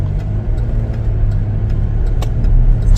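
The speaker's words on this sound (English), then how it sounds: "Take it for a test drive here." 2023 Chevy Traverse LT AWD on a test drive, with a steady low engine hum and road rumble inside the cabin and a few faint clicks and knocks.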